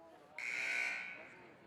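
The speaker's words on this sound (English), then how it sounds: "There's the buzzer as we're set to go for the third quarter" A basketball game buzzer sounds at a high school game to start the third quarter: a single loud electronic tone lasting over half a second, then fading into gym ambience.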